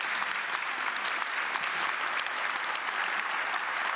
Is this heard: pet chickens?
no